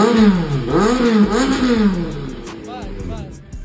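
An inline-four Panther motorcycle fitted with a new long can exhaust revs in repeated rising and falling bursts, loud and close, the engine note swooping up and down before settling toward idle.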